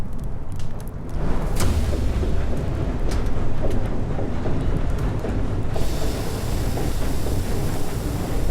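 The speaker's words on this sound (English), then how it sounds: "Happens if I just fire the engine now?" In Far: Changing Tides, a boat's engine is fired up: a loud, continuous mechanical rumble and roar that swells after a brief start and holds steady, with faint clanks over it.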